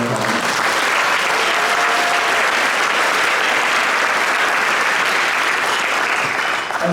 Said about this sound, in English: let's give a big round of applause for all of our donors and our sponsors